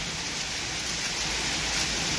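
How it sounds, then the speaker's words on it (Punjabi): Steady, dense hiss of heavy rain pouring down, continuous and even throughout with no voices. "ਹੁਣ ਤਾਂ ਮੀਂਹ ਬਹੁਤ ਆ ਗਿਆ"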